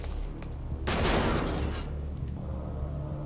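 Unsuppressed gunfire in Metal Gear Solid 5: a loud, dense burst of shots erupts mid-clip over a steady low game ambience, then fades back to the background hum.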